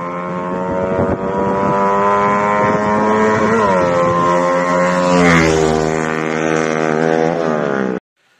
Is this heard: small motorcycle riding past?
yes